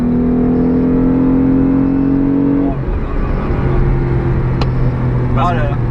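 Loud, steady engine drone inside a Renault Clio V6, the pitch dropping sharply as the driver shifts, then climbing again under the constant roar.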